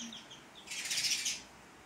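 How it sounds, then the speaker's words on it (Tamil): A small sparrow chirps near an indoor livestream, a brief burst of high twittering that rises and fades within about a second, faint against quiet room tone. "குருவி கத்துது."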